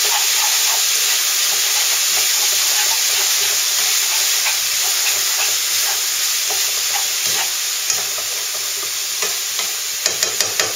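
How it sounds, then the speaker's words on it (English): Beef mince, onions and peppers frying on high heat for chili, a loud steady sizzle close up with soft stirring scrapes and a few sharper pops toward the end. "give your mince, onions, and peppers a stir. Again, this is on high heat"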